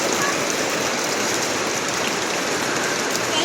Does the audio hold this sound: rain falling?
yes